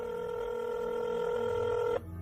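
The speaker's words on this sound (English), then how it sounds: "His phone rang, and he picked it up" A telephone ringing as a sound effect, one steady electronic ring tone holding for about two seconds before cutting off abruptly, fairly faint and heard alone.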